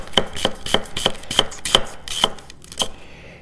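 A Hado Sakai Sumi 210 mm gyuto in Shirogami #2 white steel chops an onion on a board in about nine crisp, evenly spaced knocks. The cuts are close and clear and end in a short trailing slice, with no talking.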